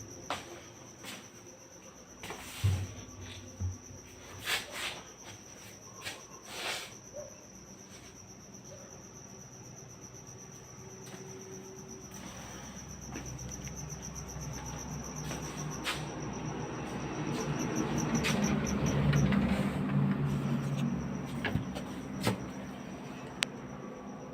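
Insects near their hive inside an abandoned office among graves: a steady, faint, high-pitched trilling drone runs throughout, with scattered soft knocks and a low rumble swelling toward the end.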